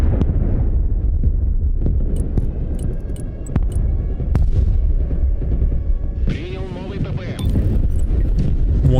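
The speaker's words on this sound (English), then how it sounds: "Patriot Pack 2 getting targeted with some rocket artillery as well" Rocket artillery strikes in the real-time tactics game Broken Arrow, a steady barrage of deep rumbling booms and crackling impacts with a few sharper hits, mixed under continuous background noise.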